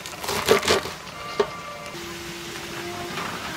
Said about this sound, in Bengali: শাকটা কেটে নিচ্ছি।